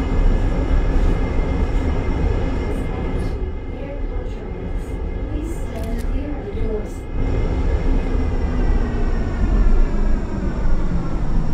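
A transit train in a Roblox airport rail system rumbles steadily into a station, a continuous loud rolling drone with faint squeals, under recorded onboard announcements.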